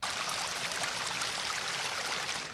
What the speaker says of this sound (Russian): ручей-ручеек на расстоянии меньше двух метров от туалета